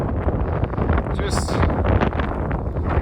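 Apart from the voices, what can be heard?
wind on a mountain summit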